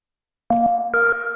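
A Roland S-1 synthesizer plays two short tonal notes through its spring reverb, a clean sustained tone followed by a higher step, with a ringing tail after a moment of silence.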